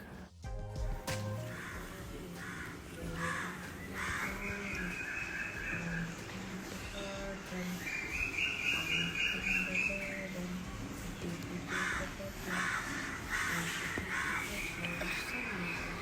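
Crows caw repeatedly across an early-morning village, harsh calls rising at intervals over a faint background of other birds chirping and rustling ambience, fairly distant and quiet overall.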